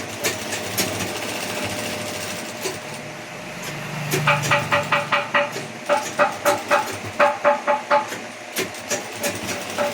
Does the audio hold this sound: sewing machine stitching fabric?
yes